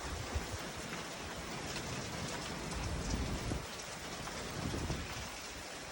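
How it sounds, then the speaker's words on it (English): Steady, heavy rain pours down on a farm, a dense continuous hiss of drops hitting surfaces close by, with no voices over it. "We needed this rain too. I hope it does this for at least 30 minutes."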